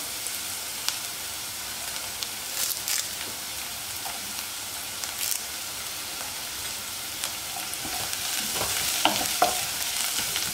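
Curry leaves sizzling with golden onions in hot oil for a green gram curry, a steady close frying hiss with scattered crackles and light pops throughout, no voices.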